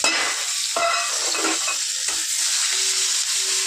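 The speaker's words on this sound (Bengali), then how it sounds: "অনেকটা গরম হয়ে গেছে, এবার এই পেঁয়াজ কুচিটা দিয়ে দেবো।" Chopped onion frying in hot oil for a spicy crab curry, a loud continuous close sizzle with light stirring scrapes throughout.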